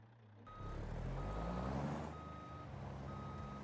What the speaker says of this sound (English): Just throw it in reverse while we try to drive forward.